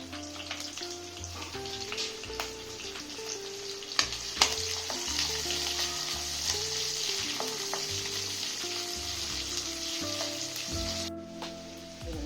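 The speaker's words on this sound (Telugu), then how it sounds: "తాళింపు వేగిపోయింది ఉల్లిపాయలు వేసేస్తాను అండి పచ్చిమిరపాయలు ఉల్లిపాయలు" Onions and green chilies sizzle in hot tempering oil with curry leaves, a steady crackling fry interrupted by occasional stirring clatters, close and continuous with no talking.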